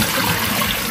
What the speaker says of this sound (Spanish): le voy a agregar 2 litros de agua